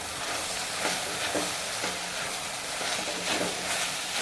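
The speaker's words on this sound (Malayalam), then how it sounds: "ഇളക്കി വേവിക്കാം." Vegetable thoran cooks in a pan with a constant dense hiss and sizzle, broken by soft, regular scraping as it is stirred.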